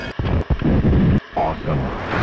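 Cannon fire from a pinball video game, heard as loud, dense booming bursts rolling through most of the short stretch with only brief gaps, broadband and rumbling like explosions.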